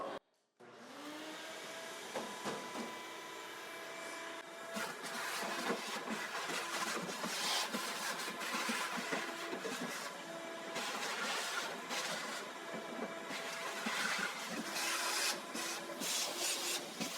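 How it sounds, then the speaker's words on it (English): A shop vac runs steadily, cleaning out a household freezer, its loud continuous motor whine and rushing airflow carrying on unbroken for the whole stretch, with bursts of scraping and rubbing as the nozzle moves around inside. "I decided to pull out the shop vac, the big guns here, to get this vacuumed out."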